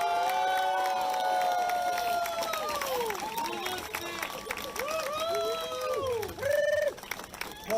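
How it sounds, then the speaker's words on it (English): At an outdoor labor rally, a large crowd keeps up steady applause and cheering, with whoops and shouts rising over the clapping for several seconds. "Looks like a good crowd out here."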